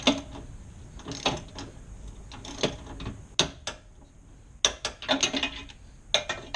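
Sharp clicks and ratcheting of a torque wrench tightening bolts to 38 foot-pounds on a 2016-or-later Chevy Cruze trailer hitch, several close mechanical snaps spread over quiet garage ambience.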